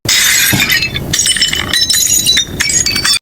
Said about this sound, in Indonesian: suara piring pecah terdengar begitu kuat